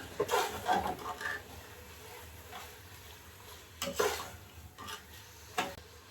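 Tomatoes sautéing in a pan for vegetable biryani, with a soft continuous sizzle and a handful of sharper spatula strokes spaced unevenly, fairly quiet and without speech.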